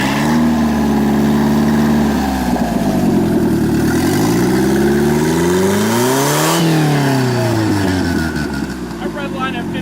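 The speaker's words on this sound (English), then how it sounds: "Rev her all the way out." A car engine revving up toward a 5,500 rpm redline, loud and close, pitch climbing in steady sweeps then dropping back, with voices talking over the engine noise.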